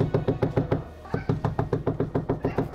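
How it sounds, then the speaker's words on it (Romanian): Firm knocking on a door, a long steady series of evenly spaced raps with a brief pause near the middle, fairly close and clear with no talking. "auzim niște bătăi în ușă"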